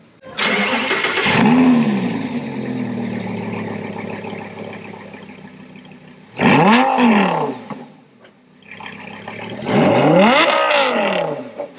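Engine of a Ford F250 Tremor truck running shortly after being started, loud roaring revs rising and falling in bursts between a steady, slightly quieter idle, heard close with no talking.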